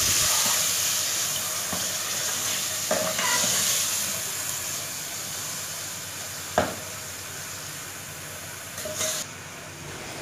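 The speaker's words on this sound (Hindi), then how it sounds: "उसके बाद मिक्स कर लेना है अच्छी तरह से।" Potato keema sizzles and fries steadily in a pan, with a few scraping stirs and clatters of a spoon against the metal standing out over the continuous hiss.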